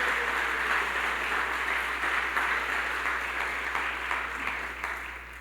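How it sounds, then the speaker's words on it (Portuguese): A church congregation applauding in praise of the name of Jesus, a continuous wash of clapping heard at moderate distance over a low steady hum, fading slightly toward the end. "aplauda bem forte o nome de Jesus."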